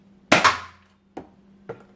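A Nerf Retaliator blaster fitted with a Worker Prophecy kit fires one sharp, punchy thump close up. Two fainter clicks or shots follow at intervals, with no talking.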